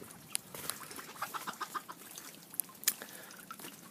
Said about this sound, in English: here is one of our Rhode Island red hens